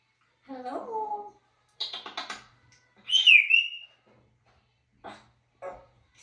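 An African grey parrot calls with a string of separate squawks, whistles and talking-like chirps. One sharp, high whistle stands out among the shorter calls, all close and loud against near silence.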